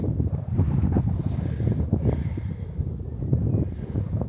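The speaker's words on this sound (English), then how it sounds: "Wind's nice now, no flies." Wind buffeting the microphone on a coastal clifftop walk along the Cleveland Way between Filey and Scarborough, a steady close rumbling roar throughout with no voices.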